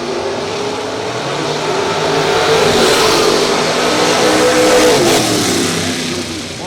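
A race car at a racing event accelerates down the track, its engine rising into a loud, sustained revving roar that peaks midway and then eases slightly, with no clear speech over it.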